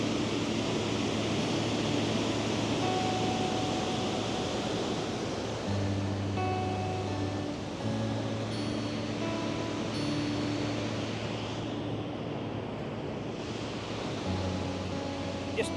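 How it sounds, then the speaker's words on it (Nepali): A forceful river in Iceland rushes in a steady, loud broadband roar that stays close and constant throughout, with no voices. "पानी बेसी लिएर आउँछ अनि यस्तै हान्छ कि"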